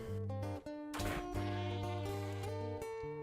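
In the survival game ARK Survival Evolved, a sheep lets out a string of clear, drawn-out bleats over a steady tonal game music background.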